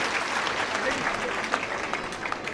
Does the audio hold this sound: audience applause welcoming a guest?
yes